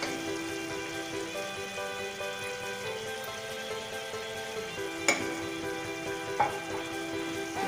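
Keema frying in oil over high heat for dhuwan keema, a soft steady sizzle with faint crackles and a couple of brief clicks, fairly quiet and without talking.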